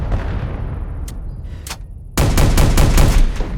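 Guided missile weapon from the Minecraft Superb Warfare mod, a fading roar with a couple of sharp cracks, then a sudden loud burst of rapid repeated blasts that continues to the end, no talk.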